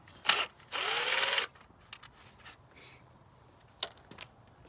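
A power driver with an 11/32 socket backs out wiring tray screws on an N54 engine during an ignition kit install: one short buzz, then a longer steady whir, followed by scattered clicks and taps of the tool.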